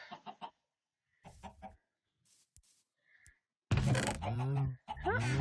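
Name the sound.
chickens clucking in the video game MeaoCraft Skyblock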